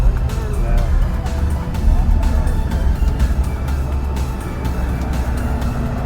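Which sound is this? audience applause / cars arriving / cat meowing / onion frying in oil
cars arriving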